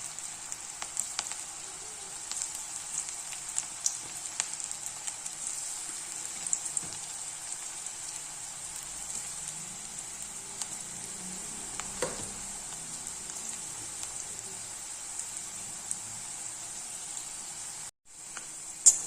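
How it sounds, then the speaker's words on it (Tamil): Onion pakoda batter fries in hot oil with a steady, fairly quiet high hiss and scattered small crackles, then a clatter near the end. "பிசைஞ்சு இப்போ நம்ம எண்ணெயில் போட்டு எடுத்துடலாம்."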